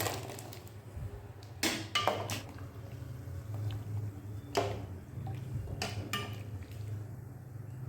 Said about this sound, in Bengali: এবার চালথাগুলো এর মধ্যে ঢেলে দিচ্ছি।